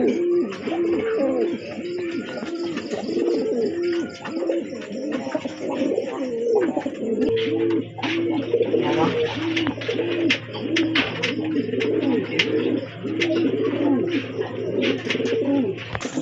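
Grizzle pigeons coo steadily in repeated soft rolling phrases, close by, with several birds overlapping and occasional chirps and rustles throughout.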